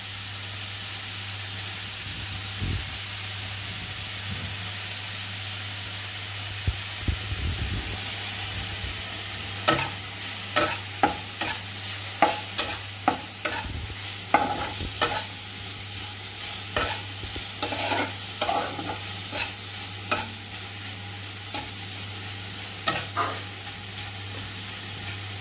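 Finely chopped cabbage and diced potato cook in a pan, a steady sizzle and hiss running throughout with a low hum beneath, joined midway by a series of sharp scraping and stirring clicks from a spatula against the pan.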